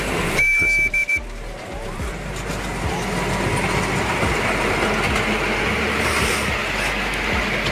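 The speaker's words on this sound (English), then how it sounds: "Miniature train, a small-scale train, often used in amusement parks, zoos, or for model railway enthusiasts" A miniature train runs along its track with a continuous close rolling rumble and rattling wheels, preceded by a short high whistle toot at the start.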